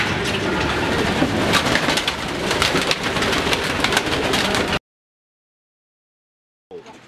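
Racing pigeons in a loft coo and murmur in a dense, continuous chorus over a rain-like hiss, loud and close, before the sound cuts to silence and a short burst returns at the end.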